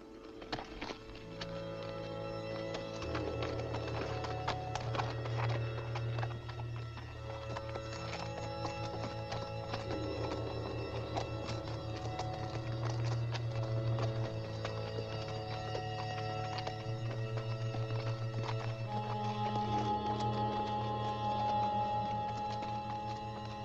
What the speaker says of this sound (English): Mount your horses, gentlemen,